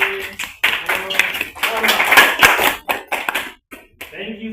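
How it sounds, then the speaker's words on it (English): A group of participants at a refugee disability-inclusion workshop in Nairobi performs a rain clap, with layered hand taps and claps rising into dense patter and then thinning out. A voice briefly calls out a count near the end. "Now we can go for the rain. Yeah, let us clap for them."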